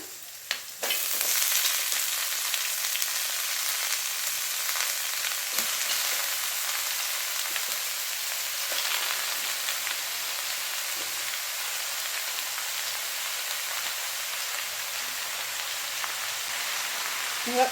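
Chopped amaranth leaves fry in a hot pan for a dish of amaranth leaf palya, giving a steady, close, dense sizzle with crackling throughout and a brief clatter at the start. No one speaks.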